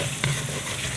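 Ground masala hits a hot pan for Indian dum aloo with a brief sharp sizzle near the start, then settles into a steady, close frying hiss that fills the rest of the moment.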